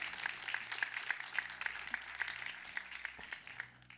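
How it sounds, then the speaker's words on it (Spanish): A congregation claps during a church service, with soft, fairly even applause at a distance, a few sharper claps poking through, and a low steady hum beneath. "Denle un aplauso al Rey."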